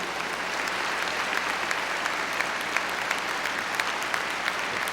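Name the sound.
applause at a high school graduation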